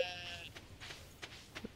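A few short sheep bleats from the farm in Stardew Valley, game sound effects with a brief tonal cry at the start followed by softer scattered bleats, faint and close.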